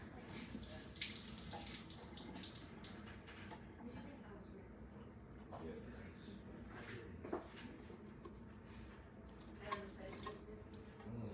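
Liquid drains from two cans of corn in a kitchen, faint trickles and splashes with a few clinks of metal under quiet background noise.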